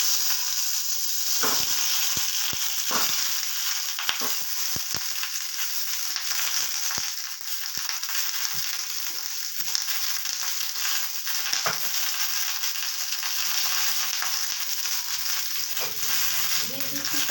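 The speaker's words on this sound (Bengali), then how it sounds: "আমি এবার টমেটোগুলো দিয়ে দিচ্ছি।" Tomatoes frying with browned garlic in a pan for a garlic tomato chutney: a loud, continuous close sizzle and hiss, broken by scattered sharp clicks and taps of stirring.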